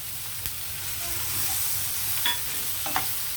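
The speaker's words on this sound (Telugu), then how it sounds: "మనం టమాటో కూడా వేసేద్దాం దీంట్లోకి ఒకసారి అంతా బాగా మిక్స్ అయిన తర్వాత టమాటా వేద్దాం" Bitter gourd fry cooks in a pan with a steady, even hiss of frying, a few faint clicks and light scrapes of stirring here and there, no voices.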